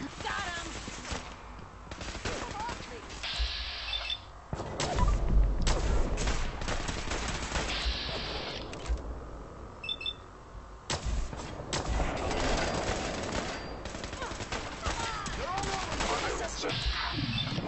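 Enemy gunfire in the video game Fallout 4 rattles in repeated bursts and volleys through most of the stretch, loud and continuous, with someone talking over parts of it.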